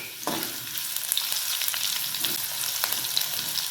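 Finely chopped onion, curry leaves and green chillies fry in a pan, giving a steady close sizzle with stirring scrapes and occasional crackles.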